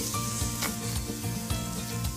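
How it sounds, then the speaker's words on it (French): Meat searing in a hot stainless steel pan gives a continuous close sizzle with faint crackles and light scraping, steady throughout, with no voices. "je peux utiliser ma poêle pour griller ma viande"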